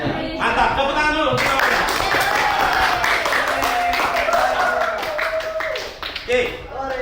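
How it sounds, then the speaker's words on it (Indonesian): Students in a history class clap together on their teacher's request. The applause is loud, close and quick, with voices and cheers mixed in, and it fades and breaks up near the end. "Mantap, tepuk tangan dulu"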